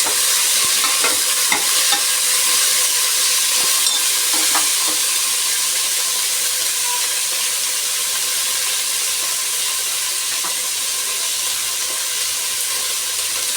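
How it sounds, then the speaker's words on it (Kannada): Ivy gourd (tondekayi) frying in oil, a steady loud sizzle and hiss lasting over thirteen seconds, punctuated by scattered scraping clicks from a utensil stirring the pan. "ಈಗ ನಾನು ತೊಂಡೆಕಾಯಿ ಹಾಕ್ತಾಯಿದ್ದೀನಿ. ಸ್ವಲ್ಪ ಎಣ್ಣೆಯಲ್ಲಿ ಫ್ರೈ ಮಾಡ್ಕೋಬೇಕು."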